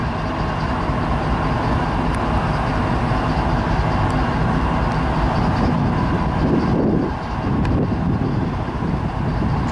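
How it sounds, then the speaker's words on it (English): Continuous heavy rumble of BNSF and FXE freight trains in a Ferromex rail yard in Ciudad Juarez, Mexico, steady and fairly loud with wind buffeting the microphone throughout. "There's a train over there."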